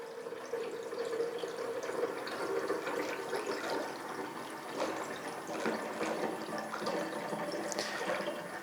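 Water poured straight from a bottle into a machine's reservoir, a steady broadband splashing and gurgling that runs continuously without pause, close and moderately loud.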